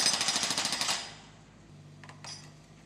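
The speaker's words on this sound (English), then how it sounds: "They're breaking up the concrete so the workmen can build a new footpath. The breaker scratches," A concrete breaker hammering up concrete for a new footpath, a rapid loud pounding burst for about a second, followed by quieter scraping knocks.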